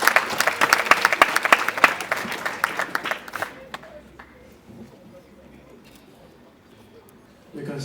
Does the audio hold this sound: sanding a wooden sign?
no